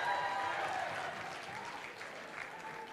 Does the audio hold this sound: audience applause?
yes